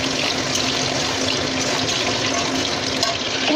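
Hot oil sizzles and crackles steadily around frying potatoes, a dense, continuous hiss at close range with no pause.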